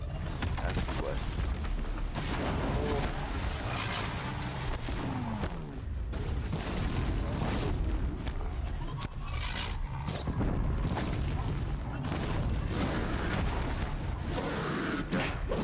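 Dense game combat from Horizon Zero Dawn, with booming cannon-like blasts and mechanical creaks from machine enemies over a constant loud background of battle noise.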